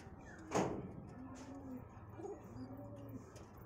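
A pair of giribaz pigeons gives several low, throaty coos in steady sequence after a sharp knock or door-like bang near the start, close and moderately loud, with no talking.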